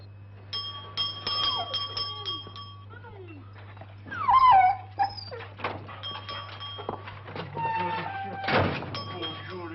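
Two or more dogs whimpering and yipping indoors in short high whines, mixed with bell-like tones and thumps, while a person talks to them.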